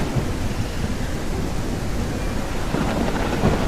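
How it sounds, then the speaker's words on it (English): Thunderstorm with steady rain in the video game Day of Dragons, a continuous loud wash of rain with deep rumbling thunder rolling underneath throughout, no voices. "Blitz Strikers are especially attuned to rain and lightning, so"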